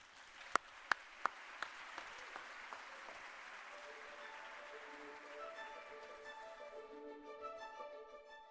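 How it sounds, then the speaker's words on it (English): An audience at a school district awards ceremony applauds 15-year service honorees, a few sharp claps first, then dense, steady clapping swelling from a seated crowd while tonal music rises underneath. "Please join me in applauding our 15-year honorees."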